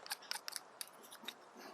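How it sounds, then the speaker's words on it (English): Knife cutting a Mersea Island oyster away from its muscle: a quick series of small, crisp scraping clicks, close and quiet, with brief pauses between them. "then we just cut away from the other muscle"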